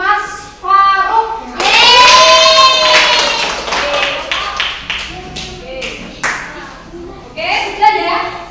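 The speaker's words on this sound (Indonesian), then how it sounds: "Oke, beri tepuk tangan buat kelompok Mas Faruk." Children clapping for a group in a classroom, a burst of hand claps that rises and tapers off, mixed with young voices talking and calling out over and around the applause.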